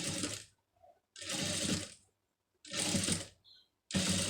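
A sewing machine stitches a fabric piece in four separate bursts of rapid mechanical clatter, each lasting about a second, divided by short pauses with small handling clicks between them.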